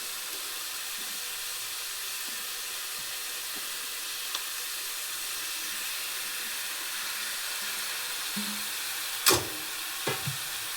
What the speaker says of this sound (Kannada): ಸೊ ಇವಾಗ ಇದಕ್ಕೆ ಟೊಮೊಟೊ ಹಾಕ್ತಿದ್ದೀನಿ.